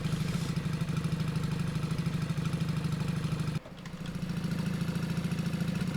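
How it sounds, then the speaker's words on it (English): Motorcycle engine in the video game Cataclysm: Dark Days Ahead, a steady low droning run at constant speed, briefly dipping in the middle before returning to the same level, with no talk. "I love the way the motorcycle sounds when you get it up to those high levels of speed"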